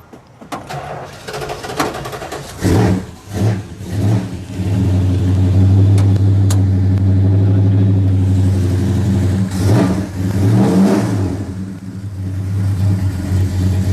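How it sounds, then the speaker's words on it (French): A Toyota Supra engine cranks, catches and settles into a loud, steady idle, with a couple of swelling revs partway through, heard up close with no talking. "Je vais démarrer cet engin."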